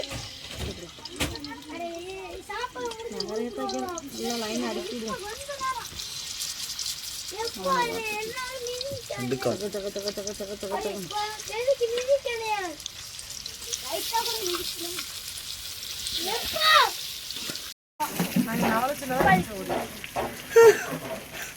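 Fish, prawns and crab fry in hot oil, a low sizzle running beneath nearly continuous conversation close by, with stirring and splashing noises between the voices.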